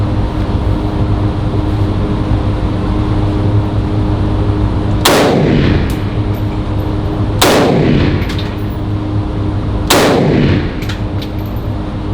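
Three loud, sharp 7.62 rifle shots ring out a couple of seconds apart at a gun range, each echoing briefly, over a steady outdoor background rumble.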